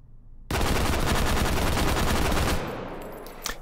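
G3SG1 7.62 NATO rifle fired full-auto with bipod in Hot Dogs, Horseshoes and Hand Grenades, a loud rapid burst of about two seconds with fast rhythmic shots, then fading echo and a clank.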